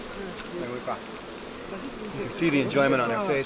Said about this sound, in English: We've got bees landing all over us.